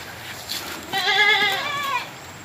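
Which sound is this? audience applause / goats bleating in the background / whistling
goats bleating in the background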